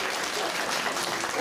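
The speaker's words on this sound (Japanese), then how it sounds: "みんな加賀谷相馬に拍手しちゃってくれ。" Audience applause at the Turtle Talk show at Tokyo DisneySea, a brief burst of dense, even clapping from a crowd filling the theater.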